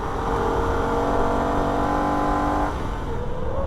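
Holden VF Ute engine pulling hard in third gear on the Nürburgring, a loud, close, steady rising engine drone with strong harmonics that eases off near the end as the revs drop, with no talk over it.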